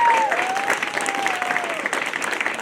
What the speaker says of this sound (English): that should warrant a round of applause